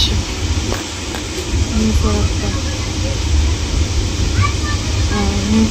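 A train pulling into New Farakka Junction, heard from inside a first-class AC compartment: a continuous loud rumble and rattle of the moving carriage, with someone speaking over it.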